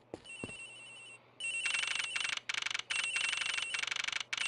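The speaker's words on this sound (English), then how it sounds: "The ringing's coming from somewhere in here" Phone ringing in the Ace Attorney Investigations video game: a short electronic chirp, then a loud trilling ring in repeated bursts with brief gaps, clean and alone.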